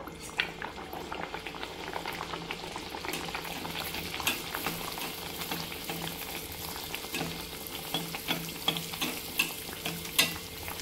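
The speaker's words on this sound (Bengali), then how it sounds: "আবারও একটা আমি তেলের মধ্যে দিয়ে দিলাম।" Naan puri dough frying in a pan of hot oil, a dense bubbling sizzle that runs continuously and close, with occasional stirring clinks and a faint voice underneath.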